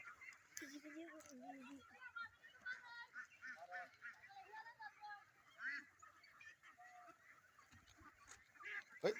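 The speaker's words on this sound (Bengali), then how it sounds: "আর এগুলি সব হচ্ছে হাঁসের বাচ্চা হ্যাঁ বাচ্চা হাঁস" Young ducklings foraging for food in a rural village setting, giving repeated high honking and peeping calls close by, mixed with other fowl noises and brief voices of people talking.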